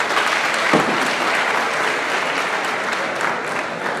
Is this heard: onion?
no